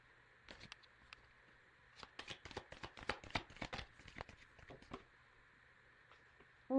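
Tarot cards being shuffled by hand, a quiet run of soft, rapid riffling taps and flicks in bursts, close up, with a brief louder bump right at the end.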